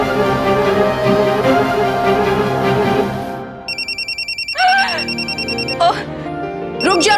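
A phone rings with a repeating electronic ringtone pattern of quick pulsed tones, loud and near, breaking in after music and continuing under intermittent voices.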